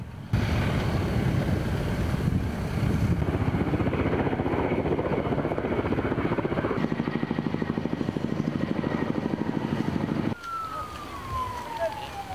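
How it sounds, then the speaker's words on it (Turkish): A loud, continuous firefighting helicopter drone with rotor chop fills most of the clip, then cuts down abruptly to a quieter rumble with a faint rising whine, over a hilltop wildfire. "Yangına havadan Türkiye'den konuşlandırılan yangın helikopteri"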